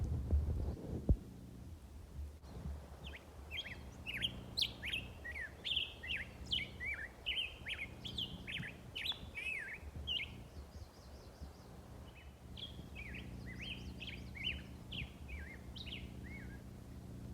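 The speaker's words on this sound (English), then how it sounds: "When the birds are singing like that, you know it is springtime." Bright chirping birdsong in spring fills a quiet mountain park, repeated calls going on and on at moderate distance over a low steady background hum.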